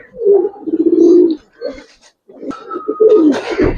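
Giribaz and coloured pigeons in a loft give low, rolling coos in several bursts, close and fairly loud, with brief gaps and some mixed background noise toward the end.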